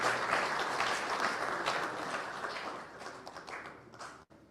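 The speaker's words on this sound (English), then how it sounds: "Let's give them a better round of applause." Applause from the audience at the 2nd Mwai Kibaki memorial event, a dense, fairly distant patter of many hands that holds steady, then cuts off abruptly near the end.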